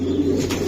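Racing pigeons at a breeding loft coo in a low, continuous murmur, close and moderately loud, with no speech over it.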